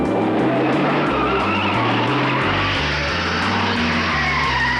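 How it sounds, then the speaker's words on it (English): A Ford Falcon GTHO Phase 3 race car screams past at high speed, its loud engine roaring continuously through stepped gear changes and a constant rush of wind and track noise. "Moffat accelerates the GTHO to something around 140 miles per hour down Conrod"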